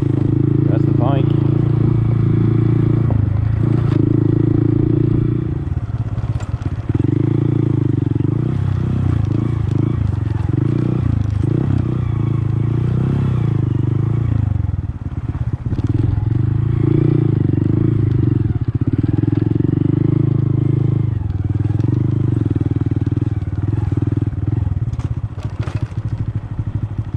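A Honda Monkey motorbike rides along a road toward a pike, its small engine droning loudly and steadily with rising and falling revs, plus wind buffeting and occasional clatter close to the rider.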